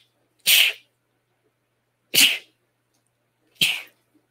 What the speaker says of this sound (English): whoops, I got to sneeze